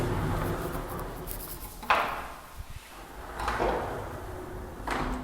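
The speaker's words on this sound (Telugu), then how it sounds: "ఈ స్లైడింగ్ డోర్ ట్రాక్ అయితే సాఫ్ట్ క్లోజ్." A soft-close sliding wardrobe door glides along its track in a villa interior, giving several smooth rolling swishes that each ease to a gentle stop, heard close up against a low room hum.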